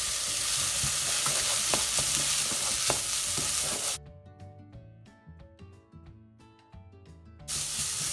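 Sliced leeks hit a hot pan with a loud, broad frying hiss, then the sizzle drops away to lighter crackles and stirring clinks before the full hiss returns, all close with no talk.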